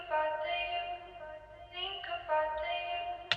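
A Trap Vocal Chops sample from Cymatics plays in an RnB soul beat, quiet clipped and pitched vocal fragments shifting through short melodic phrases, ending with a brief sharp transient.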